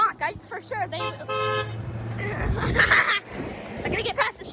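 Passing car horns toot in short bursts and one longer sustained honk on a street near a truck, with people talking over and between the honks.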